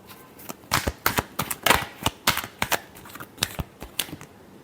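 Tarot cards are shuffled close by in a quick, irregular run of crisp riffling snaps and flutters, loud bursts separated by short pauses, with no talking.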